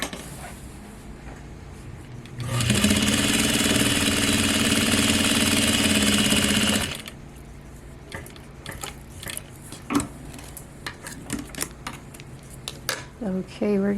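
A Juki DDL-8700 industrial sewing machine stitches through a thick folded fabric section in one loud, steady run of about four seconds, then stops; soft handling clicks and rustles follow.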